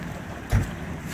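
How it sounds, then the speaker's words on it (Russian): Small boat being launched into the ocean in Hawaii, a brief muffled thump and splash rising out of steady wind and open-water noise, with no voices. "Ну а здесь еще вот такую лодочку спускают."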